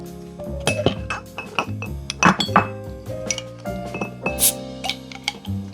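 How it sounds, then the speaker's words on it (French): A cocktail is stirred in a mixing glass, with a bar spoon clinking and ticking against the glass and ice in irregular close, bright taps and rattles, with no talking. "vous venez mélanger votre contenu dans votre verre à mélange"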